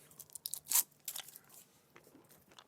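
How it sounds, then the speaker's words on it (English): Crinkling plastic as a cough drop is unwrapped during a networking lecture: a few sharp crackling, tearing bursts close to the microphone, then softer rustling over a quiet room. "excuse me while I take a cough drop here"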